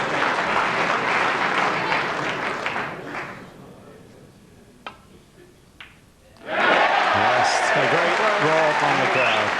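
A snooker crowd at the 1995 World Championship quarter-final, Jimmy White against John Parrott, claps warmly; the applause fades to near quiet, then a commentator's voice comes in over the room.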